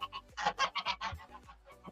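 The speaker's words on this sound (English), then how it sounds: "Nah, these are geese." Two domestic geese honk in a quick, close series of about eight loud nasal calls, with no talking.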